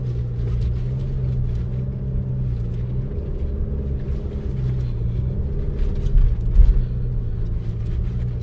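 A 2022 Toyota RAV4 Hybrid climbs a sand dune at Oceano Dunes in second gear, giving a steady, close, low engine and drivetrain rumble throughout with no talking.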